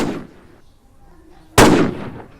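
A single sharp gunshot rings out loud and close, with a sudden attack and a decaying tail, following quieter background rumble.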